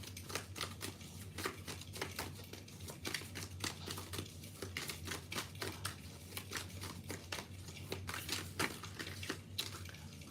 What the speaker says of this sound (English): let's keep shuffling then. I'm gonna shuffle this way.